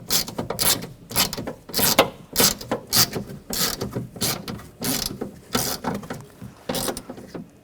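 Ratchet wrench snugging the window regulator nuts on a 2007-2013 BMW X5 rear door, a steady run of close, sharp clicking strokes repeating about twice a second with no talking.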